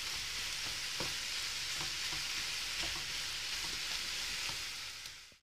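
Minced meat frying in a pan with spices, a steady loud sizzle throughout with occasional soft clicks of stirring, no voices.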